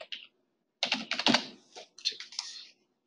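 Computer keyboard typing a comment into an online document review tool, two short bursts of quick close keystrokes separated by a brief pause, with no voices.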